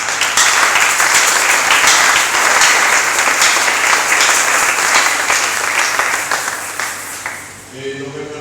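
A church congregation bursts into loud, sustained applause and cheering during a worship service, the clapping dense and continuous before tapering off at the end.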